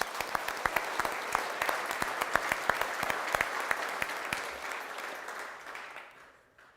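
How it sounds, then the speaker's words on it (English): An audience at an annual meeting in Scott City, Kansas, gives a round of applause, many sharp individual claps over a steady wash that tapers away to quiet at the end. "Let's give our staff and employees a nice round of applause"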